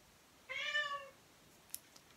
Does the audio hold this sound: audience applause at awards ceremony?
no